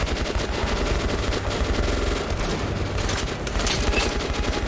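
Rapid automatic gunfire from the video game Metro: Last Light Redux, a loud, dense stream of shots that runs without a break for the whole stretch.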